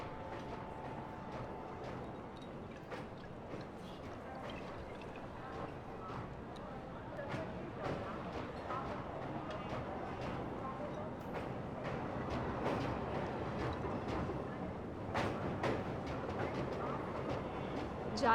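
A passenger train bound for Lucknow rolls along the tracks with a steady, continuous rumble and faint rhythmic clatter that grows slightly louder toward the end, with voices talking over it.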